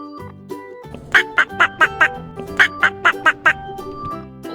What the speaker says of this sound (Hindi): ये है डक,